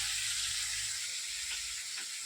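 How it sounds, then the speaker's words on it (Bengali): Potatoes fry in a pan, giving a steady, bright sizzling hiss that stays even and close throughout, with faint stirring clicks and no voices. "আলু ভাজা বসাই দিছি"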